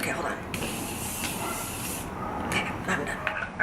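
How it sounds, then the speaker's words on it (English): Short hissing bursts of makeup setting spray misted onto a face, a few quick sprays close to the microphone over a faint background hiss. "I'm just going to spray a little bit of setting spray on my face"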